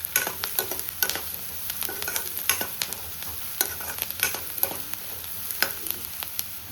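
Onions fry in mustard oil blended with another oil for a North Indian chole curry, making a soft steady sizzle with repeated spatula scrapes and taps against the pan, fairly quiet and with no voices.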